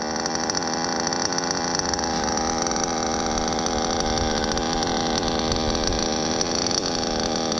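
A modded Novarossi nitro engine idles on an RC truggy, a steady, loud, high-pitched buzzing drone with a constant rough rattle that holds unchanged the whole time.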